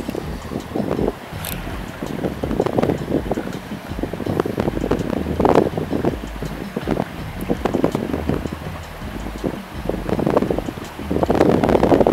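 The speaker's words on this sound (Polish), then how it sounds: "Znowu wiatr zaczyna padać." Gusty wind roars across the microphone outdoors while fly fishing in cold, rainy August weather, a steady rushing noise with stronger buffeting bursts and faint rustling.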